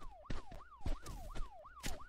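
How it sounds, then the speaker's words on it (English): A police car siren in the game Broke Protocol wails in repeated rising-and-falling sweeps, fairly distant and faint, with thumping impacts and road noise around it. "that guy has the sirens on"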